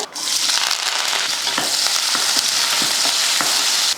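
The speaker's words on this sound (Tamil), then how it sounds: "நல்லா வெங்காயத்தை பச்சை வாடை போகிற மாதிரி வதக்கிட்டு" Onion, mustard seeds and curry leaves frying in hot oil for a wedding-style vegetarian feast, giving a loud, steady, close sizzle with scattered spitting pops throughout and no talking.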